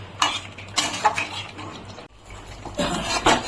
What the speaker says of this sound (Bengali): দিয়ে নাড়িয়ে চাড়িয়ে নেব।